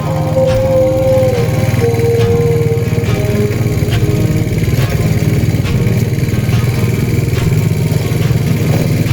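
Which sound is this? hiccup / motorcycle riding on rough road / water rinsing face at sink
motorcycle riding on rough road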